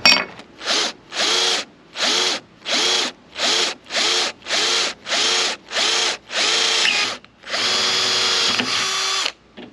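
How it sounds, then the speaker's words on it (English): A handheld power drill whirs in about eleven short, evenly spaced bursts, the final pull running longer, close and loud with no talk, while working on a part during a TDI engine swap on a barn-find Volkswagen Caddy. "What I'm going to be using is just a drill."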